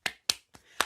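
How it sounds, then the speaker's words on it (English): Four sharp hand claps, close and distinct, with short gaps between them, the third softer than the others. "Clap."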